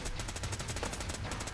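Automatic gunfire in the video game Fallout 4, a fast, steady run of shots pulsing close and loud throughout.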